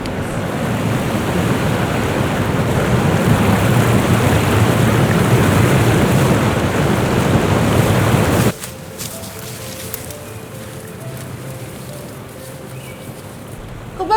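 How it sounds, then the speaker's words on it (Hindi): Monsoon waterfall on the Kaveri river dropping 200 feet, a dense steady roar of crashing water that stays loud and unbroken for about eight seconds, then cuts to a much quieter, thinner rush of water for the rest. "कावेरी रिवर से आती है वो 200 फीट से गिर रही है।"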